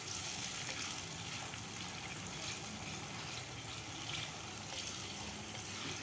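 A ginger, garlic and green chili paste frying with curry leaves in a pan for chana dal, giving a steady, faint sizzle that runs evenly throughout with no breaks.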